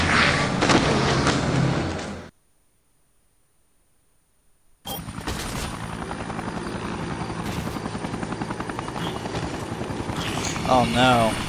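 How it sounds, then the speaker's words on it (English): Helicopter in the Dead Rising video game, a loud steady rotor and engine roar that drops out for a couple of seconds, then returns with talk, with brief bangs and an electronic chirp near the end. "Oh no, the helicopter."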